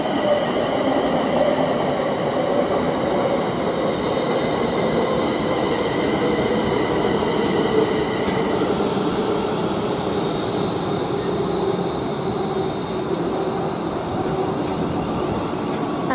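Class 350 electric multiple unit running through Rugby station on the West Coast Main Line, a loud, steady roar of wheels on rail with whining motor tones held throughout, close by and uninterrupted.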